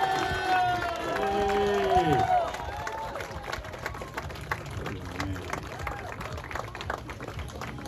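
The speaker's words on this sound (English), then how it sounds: "give a bride a round of applause, round of applause" Wedding guests applaud and cheer after the bride and groom kiss, a burst of clapping with tonal music and cheering at the start that fades into scattered, quieter clapping and murmuring.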